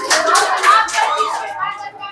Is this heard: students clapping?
yes